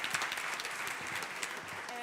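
Conference audience applauding: a soft, even patter of many hands, fairly distant and low in level, continuing steadily throughout.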